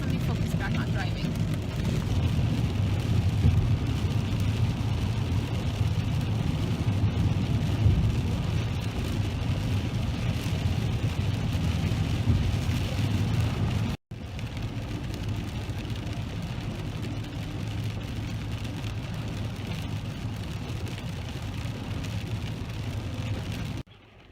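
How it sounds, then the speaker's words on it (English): Heavy rain drumming on a moving car during winter driving, a steady dense wash over low road and engine rumble, close and continuous with a brief dropout midway. "Okay, so it is pouring rain, and I don't want to go outside just because of how horrible it's raining."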